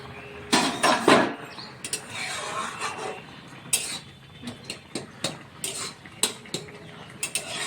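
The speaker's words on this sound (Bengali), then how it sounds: "5 মিনিট পর আমি ঢাকা খুলছি।" A cooking pot holding a tangy Bengali dhyaras dish has its lid lifted after five minutes of cooking. Metallic clanks and rattles come first, followed by a series of sharper clinks and taps from the pot and utensils.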